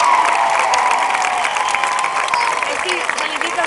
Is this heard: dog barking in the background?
no